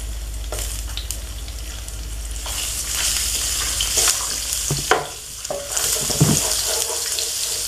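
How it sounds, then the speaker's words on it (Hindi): Garlic sizzles steadily in a hot pan while a utensil stirs and scrapes, close up, with occasional clinks and no talking. "इसके अंदर ऐड करूँगी 1 टेबल स्पून लहसुन, और हम उसको सौते कर लेंगे।"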